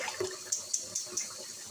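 About two cups of water go into a cooking pot of leftover gravy, a soft steady splashing pour with a few brighter plinks, close and fairly quiet.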